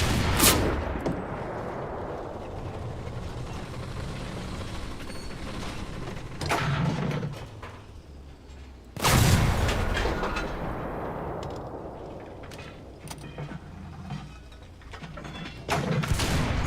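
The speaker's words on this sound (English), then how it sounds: "It actually fires all the machine guns." Machine guns fire in the video game Enlisted in two loud bursts of rapid rattling shots, separated by a few seconds of mechanical clatter and rumble.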